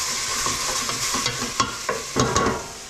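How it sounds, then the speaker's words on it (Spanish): Sofrito for Colombian sancocho fries in a pan, a bright continuous sizzle with several short scraping stirs toward the end, close and fairly loud with no talking. "voy a sofritar esto"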